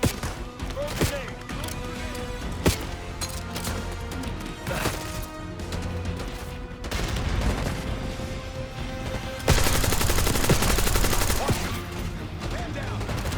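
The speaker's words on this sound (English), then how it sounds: "He's got a machine gun!" Continuous machine gun fire in a Call of Duty campaign battle, rapid bursts layered with other gunshots and impacts, swelling louder toward the end, with shouted voices mixed in.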